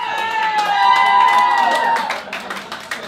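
An audience at a live comedy show cheers and claps for a comedian, loud and close at first with whoops over the applause, then thinning into scattered individual claps.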